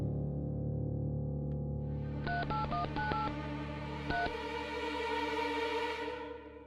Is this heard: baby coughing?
no